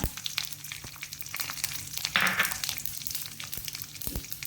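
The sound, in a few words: cumin seeds sizzling in hot oil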